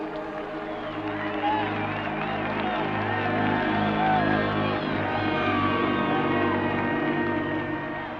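Crowd welcoming a returning Mississippi team home, with a continuous wash of cheering, chatter and scattered clapping at moderate distance that stays steady throughout, voices talking within it.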